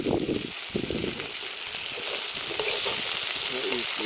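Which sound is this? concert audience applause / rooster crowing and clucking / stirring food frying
stirring food frying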